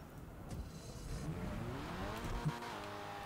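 A car engine revs and rises in pitch as a vehicle accelerates in GTA V Online, with a faint tire squeal, steady and moderately quiet, and no talking over it.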